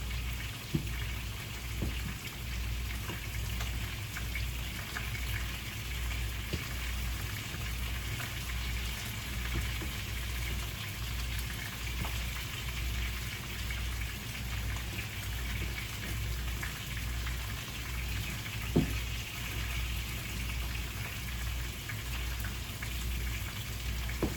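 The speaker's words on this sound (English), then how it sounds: "while the chicken is still frying." Chicken frying in a pot of hot oil for a Jamaican one-pot chicken and dumpling, a continuous soft sizzle and crackle with occasional pops, steady and close, with no talking.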